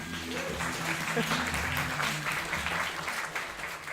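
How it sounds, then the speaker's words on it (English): Audience applause for a speaker taking the stage at a Bettakultcha presentation evening in Leeds, a steady wash of clapping with a low murmur of voices mixed in. "So let's give him a round of applause."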